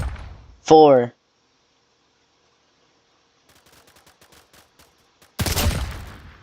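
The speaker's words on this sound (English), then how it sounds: "Time for the Mauser." A Mauser rifle fires in a Roblox weapon test: a voice counts, faint clicking follows, then one loud, sharp shot bursts near the end.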